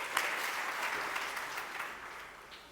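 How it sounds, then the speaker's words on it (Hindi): An audience at a devotional religious discourse claps together, a dense steady patter of many hands that starts strong and fades slightly toward the end. "एक बार तालियां बजाओ।"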